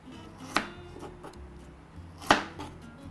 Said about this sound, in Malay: Potong kecil-kecil lah.